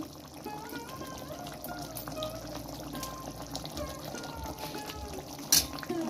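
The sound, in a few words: pouring water into fish curry pan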